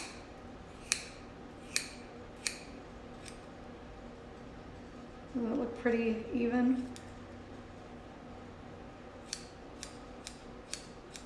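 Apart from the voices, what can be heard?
scissors cutting hair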